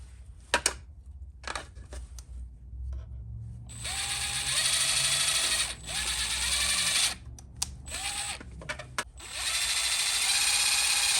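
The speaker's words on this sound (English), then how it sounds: "So I'm just gonna drill some holes and" A power drill bores holes in a plastic part for a Honda Grom motorcycle, with several whirring bursts of a few seconds each separated by short pauses, close and loud.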